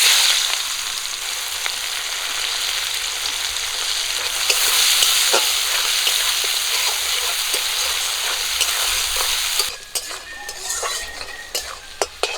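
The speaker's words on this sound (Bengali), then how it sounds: "কাঁচা লঙ্কা আর পেঁয়াজ একটু লাল করে ভেজে নেব" Chopped onion and slit green chillies fry in the same oil left from frying pabda fish, a steady close sizzle with scraping stir strokes, quieter toward the end with a few utensil clinks.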